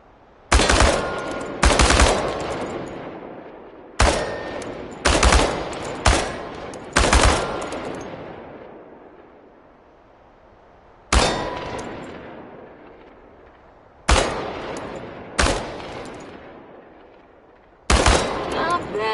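Bursts of automatic rifle fire at tin cans on a shooting range in Chernobylite, loud and close, each burst ringing off metal and then decaying, repeated about ten times with pauses between.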